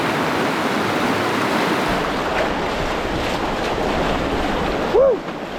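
Canoe running the rapids of the River Spey at good water levels, with a steady loud broadband rush of turbulent white water and wind throughout, and a brief splash near the end.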